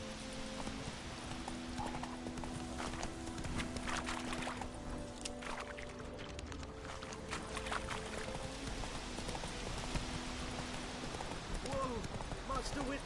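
Roach the horse clip-clops along in The Witcher 3, rhythmic hoof steps that are fairly quiet under a soft outdoor ambience, with a voice speaking now and then.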